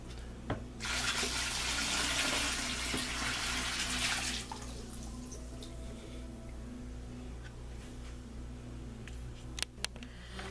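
Fresh aquarium tank water pours and splashes loudly for about four seconds while a Fluval canister filter is cleaned, then quiet handling noises and a few small clicks follow.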